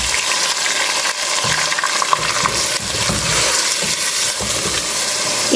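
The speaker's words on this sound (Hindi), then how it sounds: "इसे 5 मिनट भूनूंगी मैं मीडियम फ्लेम पर।" Boneless mutton sautéing in a pan over a medium flame, a loud, dense, continuous sizzle with stirring scrapes throughout, close up.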